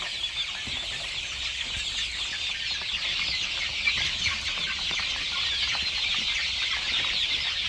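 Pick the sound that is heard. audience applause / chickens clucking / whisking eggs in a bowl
chickens clucking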